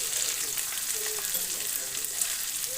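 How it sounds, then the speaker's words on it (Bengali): Crab frying in a pan with salt and turmeric gives a steady, close sizzle with soft crackles throughout. "3-4 মিনিট ধরে ভেজে নেব।"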